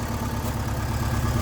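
A Volkswagen Gol engine idles steadily up close, giving a loud, constant low rumble and hum that stays even throughout with no talking.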